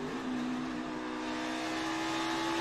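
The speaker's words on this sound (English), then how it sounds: "Downshifted early, back into the gas for Haley." An Xfinity Series stock car engine roars steadily at high revs during a championship race, a loud continuous drone that dips briefly at the start, then builds back up as it pulls ahead.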